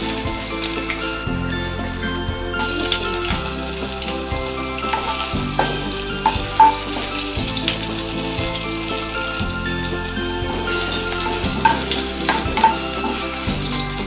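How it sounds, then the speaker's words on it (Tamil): Crushed garlic cloves fry in a little oil, giving a loud, continuous close-up sizzle and crackle that holds steady throughout with no talking. "பூண்டு எண்ணெயில் பொரியும் போது அந்த ஸ்மெல் ரொம்ப நல்லா இருக்கும்."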